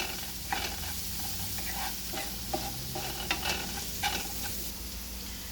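For mutter paneer, onion paste cooks in oil in a pan, giving a low, even sizzle broken by occasional spoon scrapes and clicks, fairly quiet and without talk.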